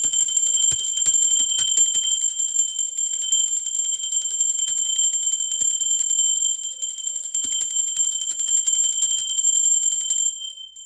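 A bell rung in a sustained, ringing tone with bright high overtones that holds steadily for about ten seconds before cutting off, with faint light taps underneath.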